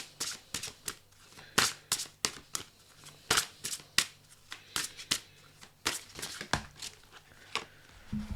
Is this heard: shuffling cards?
yes